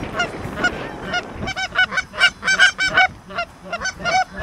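Flock of wild geese honking as they fly in during a hunt, a loud, close chorus of repeated overlapping honks coming in rapid, uneven bursts.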